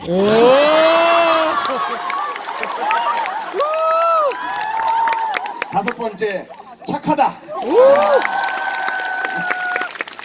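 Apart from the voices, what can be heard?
audience applause and cheering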